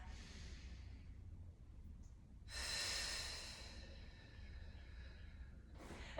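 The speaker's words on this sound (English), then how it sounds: "One more breath." Deep breathing during an ab exercise, a soft drawn-out breath followed by a louder, longer exhale and a short final intake, close to the listener with a low background hum and no talking.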